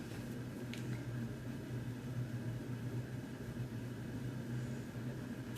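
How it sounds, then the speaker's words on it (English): A home heating system running indoors, a steady low droning hum with a faint constant mechanical whir, no voices. "my heating's just kicked in"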